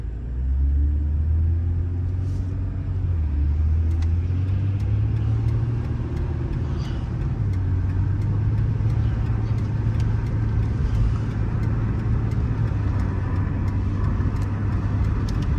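A Ford Taurus car driving, its engine and road noise rumbling steadily and loud for the whole stretch, low and continuous with slight shifts in pitch.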